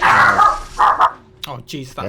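A pet dog barks a few short times nearby while someone talks over it.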